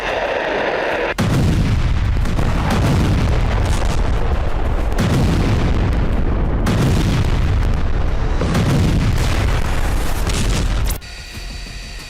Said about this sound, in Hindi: रूसी सेना ने फाप 3000 बम से यूक्रेन के 3 एनर्जी ठिकानों को तहस नहस कर दिया।